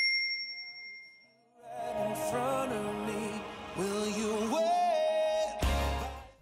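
A bright notification bell chime rings out as layered, shimmering tones that shift in pitch over several seconds, ending with a low thump, with no talking.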